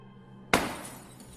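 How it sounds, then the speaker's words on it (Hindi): Glass shatters in a single sudden crash after a brief quiet moment, a sharp bright impact trailing into tinkling fragments that fade quickly. "तभी उसे अपने पीछे से कांच के टूटने की आवाज सुनाई दी।"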